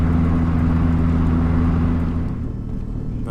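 A steady high-pitched whine from a Bosch 044 fuel pump drones inside a car over low engine rumble, loud at first then easing slightly as the engine note drops.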